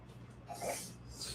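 A single short, sharp sneeze, close and fairly quiet, over low background hum.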